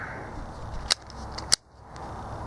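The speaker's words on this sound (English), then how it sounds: "one open top, 1875 Smith & Wesson Schofield Revolver, and she's in 45 Colt" An Uberti 1875 Smith & Wesson Schofield revolver in 45 Colt fires two sharp shots about half a second apart, each a brief crack over steady outdoor background noise.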